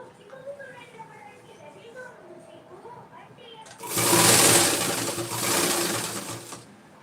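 A sewing machine runs in a loud, close whirring burst while stitching a folded saree petticoat. Someone speaks just before it starts.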